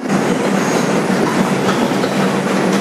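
Loud, steady rumble and rattle of an IRT 2 train on the White Plains Road local, a 2001 Bombardier subway car, running continuously with faint clickety-clack and no talking.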